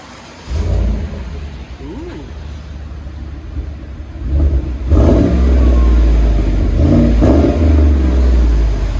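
A 2017 Chevy Silverado 6.2L V8 with a BORLA ATAK exhaust idles with a deep rumble, then revs up in loud, close bursts that rise and fall.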